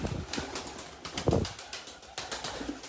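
Pigeons at an open-air bird market, with bursts of wing flapping and soft cooing close by, repeated several times over steady crowd and market background noise.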